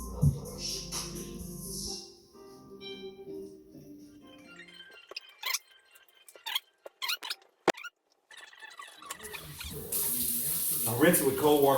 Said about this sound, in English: I rinse it with cold water only